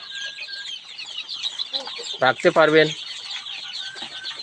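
Native desi chickens cluck in short bursts at close range on a farm brooding chicks, with a louder cluster of calls midway and someone talking briefly over them.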